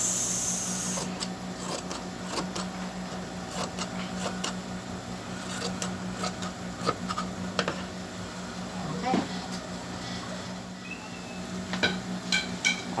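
An edging machine stitches along pillowcase fabric with a steady, close mechanical whir and rapid needle chatter that runs almost the whole time, with faint background sounds.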